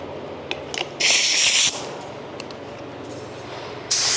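InoKraft Drizzle Pro paint sprayer laying down a coat, two loud hissing bursts of spray, one lasting under a second and another starting near the end, over a steady background hum with small clicks.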